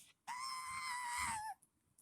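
A voice imitates someone shouting loudly, a single sustained, strained yell lasting over a second, close and alone with no other talk.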